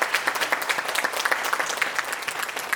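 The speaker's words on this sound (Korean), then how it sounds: "박수 보내주세요." Audience applause fills a concert hall at a classical vocal recital in Samcheok's arts and culture center, a steady dense clapping that stays loud and even throughout with no voices over it.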